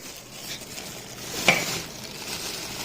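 Gongura chicken frying in a pan, a steady soft sizzle with light stirring and one sharp clink of a utensil against the pan midway.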